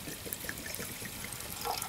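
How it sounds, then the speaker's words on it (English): Water is poured into pea soup with mustard, a continuous close trickling and gurgling of liquid running steadily for a couple of seconds with no voices. "Just add a little bit of water."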